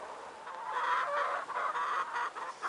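Several chickens clucking close by, a steady stream of overlapping clucks and soft squawks with no talking.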